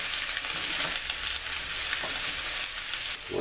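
Home fried potatoes with onions frying in oil, giving a steady, dense, close sizzle with faint stirring scrapes, continuous with no talking.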